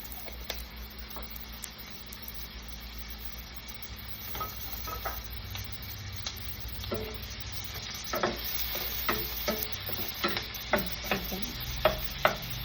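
Olive oil sizzling faintly in a frying pan for a sardine dish, a soft steady crackle broken by scattered light clicks and taps that grow busier toward the end, with no talking.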